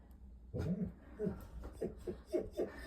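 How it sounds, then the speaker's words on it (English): A dog whimpers and yips at something outside, a run of short, close, high whines and soft yelps repeating every half second or so, heard alone in a quiet room. "sorry, my dog sees something outside."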